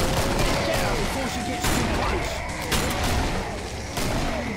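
Hand cannon gunfire in the video game Killing Floor: a few heavy shots at irregular intervals, loud and close, set over continuous game noise and speech.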